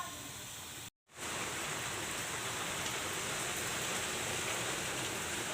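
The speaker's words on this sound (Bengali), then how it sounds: "ডিম ভাজা হচ্ছে এখানে" Eggs frying in a pan give a dense, steady hissing sizzle, close and fairly loud. It breaks off briefly near the start, then runs on unchanged.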